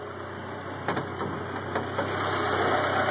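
A 1986 Volkswagen Cabriolet engine idles steadily with the hood up and a new muffler fitted, a close, even mechanical hum with a few light ticks and clicks near the start.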